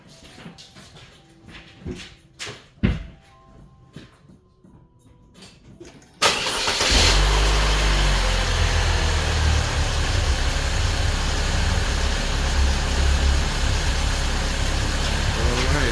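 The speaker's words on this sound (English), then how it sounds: "So the engine is running good" A Saab 9-3 2.0L engine, just fitted with new spark plugs, cranks and catches about six seconds in after some quiet clicks and knocks, then settles into a loud, steady idle that holds to the end.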